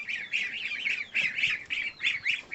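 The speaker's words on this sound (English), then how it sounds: "Yeah, you're noisy goslings." A cluster of goslings peep and squeak in quick, repeated high chirps on a farm, a busy continuous chorus close by.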